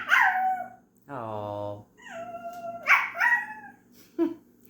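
A person's voice imitates a cute puppy with high whimpering yips and a drawn-out howl-like whine, close and fairly loud, with a brief exclamation from another voice.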